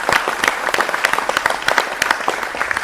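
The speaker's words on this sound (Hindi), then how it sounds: "जोरदार तालियों से सभी का स्वागत करें" A studio audience bursts into dense, continuous applause to welcome guests on a televised discussion show, many hands clapping loudly and close throughout.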